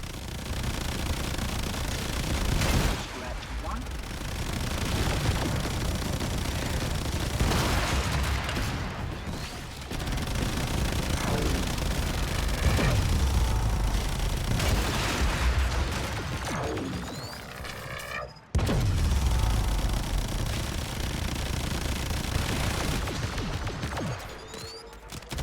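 Phaedra weapon fire aimed at the Profit Taker boss in Warframe, a dense continuous barrage of shots and booming impacts with mechanical clanks, loud throughout, with one abrupt cutout partway through.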